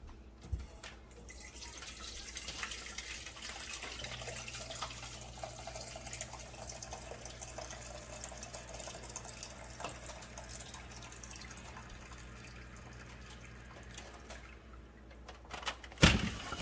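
Liquid is poured into a pan in a home kitchen while a pot roast and seasoned rice are being made, a steady soft trickle and splash running for several seconds at moderate distance, ending in a sharp clatter.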